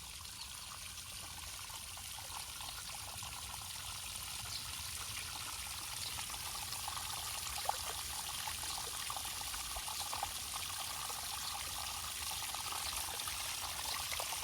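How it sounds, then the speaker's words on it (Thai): Small waterfall splashing into water where fish swim, a quiet, steady trickling and pouring that runs on unbroken, with no talk. "ปลาเล่นน้ำตก"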